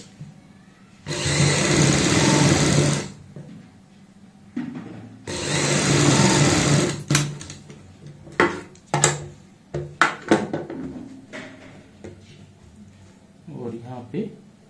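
A sewing machine running a basting stitch on a kurti, two sustained bursts of motor whirring followed by shorter clicks and handling noises, with a voice speaking at times.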